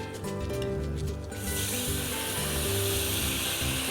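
Marinade hits a hot frying pan just used for flank steak, bursting into a loud, steady hiss of sizzling that continues over background music.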